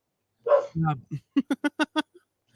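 A dog gives a low grumbling whine, then a quick, evenly spaced run of five or six sharp barks that ends in a faint yip, loud and close.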